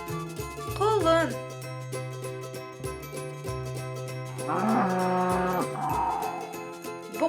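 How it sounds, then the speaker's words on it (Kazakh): A cartoon bull from a children's animation about farm animals lets out long, deep moos, loud and close, over a steady musical backing. "Бұқа."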